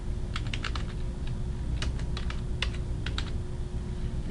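Quick bursts of typing on a computer keyboard, clusters of light clicking keystrokes with short pauses between them, close and fairly quiet over a low hum.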